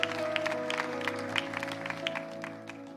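Scattered hand clapping from a church congregation over sustained keyboard chords, moderately loud and steady for a few seconds.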